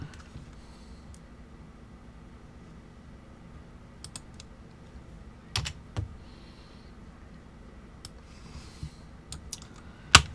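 Soft keystrokes typing a stream key on a computer keyboard, sparse taps and a few sharper clicks against a quiet room hum.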